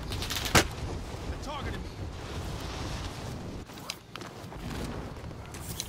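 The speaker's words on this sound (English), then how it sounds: "Someone's already trying to shoot me" Gunfire in Warzone: one sharp, loud shot near the start, then scattered fainter cracks and thumps at a distance, with people talking over the game sounds.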